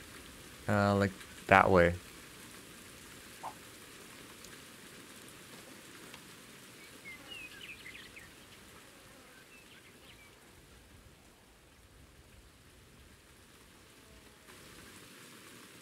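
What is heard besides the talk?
rain, from video game Ultimate Fishing Simulator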